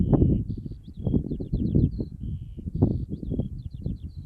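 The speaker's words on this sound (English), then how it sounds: "It's just lovely to sit up here and listen to the birds." Small birds sing high, thin, repeated whistled phrases in open countryside on a June walk, faint and distant above a loud, steady low rumble of wind buffeting the microphone, with no talking.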